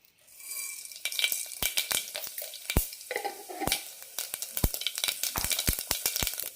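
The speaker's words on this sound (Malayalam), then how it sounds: "ഇതിലേക്ക് കടുക് ഇടാം." Mustard seeds crackle and splutter in hot oil inside a pressure cooker, sharp popping bursts scattered irregularly over a steady close sizzle, with no voices.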